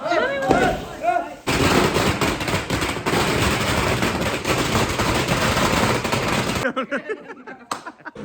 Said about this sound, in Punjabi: ਪਟਾਕਾ ਹੀ ਮਾਰੂ ਸਹੀ ਗੱਲ ਓਏ